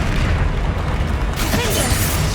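Confringo blasting curse explosion in the Hogwarts Legacy video game: a dense, continuous booming rumble with bursts of crackling debris, loud and close, sustained through the whole moment with no pause.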